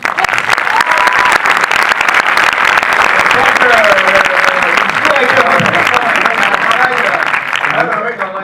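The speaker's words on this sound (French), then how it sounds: "je voudrais l'applaudir pour ça, le réalisateur Nicolas Benamou" Loud, dense applause from a cinema audience at a film presentation, honoring the director, sustained and steady for about eight seconds with some voices and cheers mixed in.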